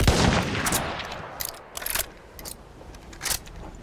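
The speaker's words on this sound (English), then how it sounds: "a gun like the Ross rifle has all the correct animations for an empty reload" Ross rifle in the World War I shooter Battlefield 1 reloads with a rapid series of sharp metallic clacks and snaps, close and crisp with brief gaps between, no talk.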